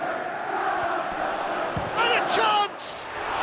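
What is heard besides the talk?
crowd applause in PES football video game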